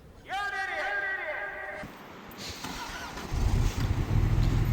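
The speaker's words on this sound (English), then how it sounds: "Crank the starter." A vehicle engine's starter cranks with the car in first gear and the clutch not held, on a mountain outing in Arizona; a voice speaks first, then a rough, steady cranking rumble builds and continues without the engine catching.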